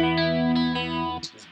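A guitar played through a Danelectro Cool Cat DC-1 chorus pedal rings out in a sustained, shimmering chord with a wavering chorus sparkle, followed by a brief pick or string noise as it fades.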